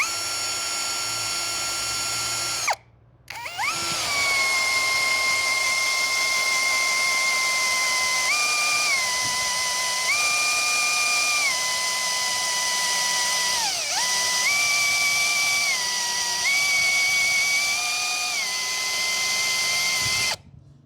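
A Hanabi LJ2005 cordless drill bores through a workpiece in a long, steady, loud whining run, its pitch stepping up and down slightly as the load changes, with a short pause near the start before it resumes.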